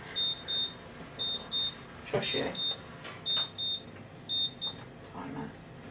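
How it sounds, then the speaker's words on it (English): A kitchen timer beeps in bursts of shrill, evenly spaced electronic beeps that repeat in regular groups while stained glass cookies are being made; a person speaks briefly between the beeps. "Timer."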